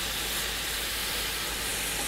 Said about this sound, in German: ihr könnt den Speck natürlich bis zu eurem gewünschten Bräunungsgrad da drin auslassen und anbraten.